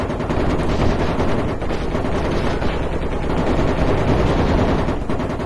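Loud, sustained gunfire crackles in the military shooter game Project Reality, rapid automatic bursts overlapping without a break for the whole stretch, close and dense.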